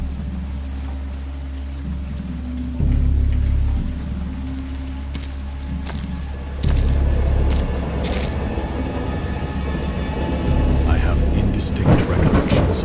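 Thunderstorm in the horror game Dagon, based on H.P. Lovecraft: steady heavy rain with deep rolling thunder surging in loud waves, a low rumble building again near the end, with some voice murmuring underneath.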